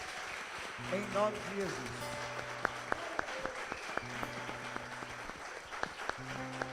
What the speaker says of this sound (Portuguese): E eu quero que você aplauda Ele bem forte